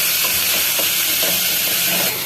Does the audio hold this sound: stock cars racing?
no